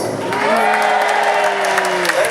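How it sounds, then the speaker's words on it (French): A large audience at a comedy show in Tunis bursts into loud, sustained applause mixed with cheering and whoops, a dense roar that holds steady throughout. "Un tonnerre d'applaudissements pour le grand."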